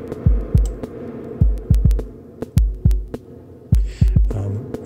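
Snare drum hits sent through a modular reverb module with dry signal blended in, about a dozen sharp close strikes in an irregular pattern, each trailing a short booming decay.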